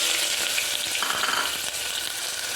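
Chopped medium onion sizzles in about two tablespoons of hot oil with tempering spices in a cooker pot, a dense, steady crackling hiss that stays loud and close throughout with no talking.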